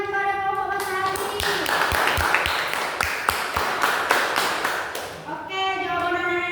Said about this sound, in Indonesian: Beri tepuk tangan kepada kelompok matahari.